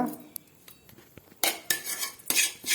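Spoon stirring sweet pooranam filling with sugar syrup in a metal pan for kozhukattai, heard as close clinks and scraping against the pan, a few light taps followed by louder scraping strokes.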